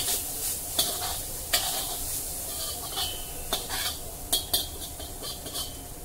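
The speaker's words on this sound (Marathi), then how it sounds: "नारळ सुद्धा तुपामध्ये आपल्याला थोडंसं परतायचं आहे।" Grated coconut sautés in ghee in a pan for sweet coconut rice: a constant close sizzle with intermittent scrapes and clinks of a stirring spoon against the pan.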